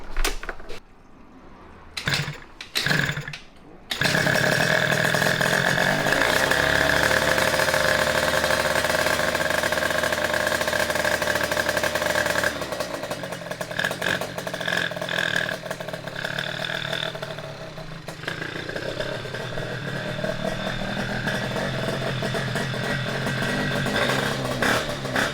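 An Aprilia RC1 motorbike engine is started after a few short cranking bursts, then settles into a loud, close, steady idle with a buzzing tone and slight rhythmic unevenness that continues to the end.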